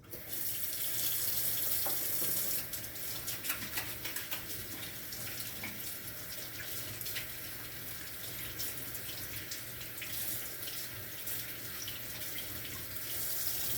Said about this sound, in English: And I need to wash my hands.